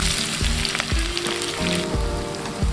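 Onions for chana pulao sizzle steadily in hot oil with a dense, close hiss, while a spoon scrapes and stirs the pan several times at a regular pace.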